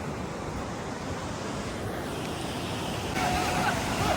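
Rough sea waves rolling in during coastal fishing, a constant heavy surf roar mixed with wind noise on the microphone, close and steady, swelling slightly louder near the end.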